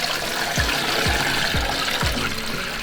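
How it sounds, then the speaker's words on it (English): Water pours from a pot into a brining container in a steady, rushing splash that lasts throughout, with a few low glugs and thumps at regular intervals. "What I want to do is I want to pour it in the container."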